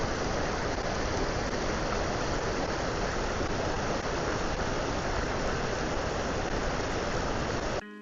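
Rushing river water tumbles over rocks in a scenic Banff National Park spot in Alberta, a loud, constant broadband roar that stays steady throughout and cuts off abruptly at the very end.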